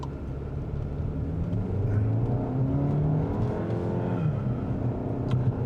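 A 2022 VW Arteon with a DSG dual-clutch gearbox, or a Volvo V60, accelerating hard from 0 to 100: a steady, loud engine drone that climbs in pitch through the gears, with no talking over it.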